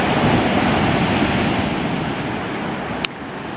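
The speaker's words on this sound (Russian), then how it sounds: "Посмотрите, какие волны." Ocean waves breaking on a beach in Spain, a steady loud wash of surf close by with a brief sharp tick near the end, no talking.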